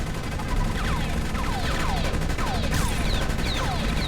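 Relentless rapid gunfire blasts away at aliens in the game Space Beast Terror Fright, a dense, unbroken barrage with faint chirping alien cries running through it.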